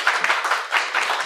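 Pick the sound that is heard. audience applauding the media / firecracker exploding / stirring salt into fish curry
audience applauding the media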